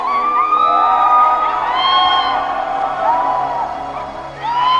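A crowd of fans cheers and shrieks for footballer David Beckham, a dense wall of high, excited voices and whoops held steadily for several seconds.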